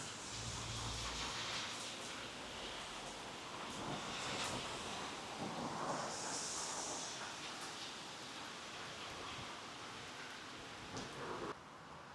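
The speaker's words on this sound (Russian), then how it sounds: "Поджигает костер и будет сейчас жарить шашлыки, мясо." Lamb and pork shashlik grilling over a campfire gives a steady, dense crackle and hiss that runs unbroken for the whole stretch, with no voices.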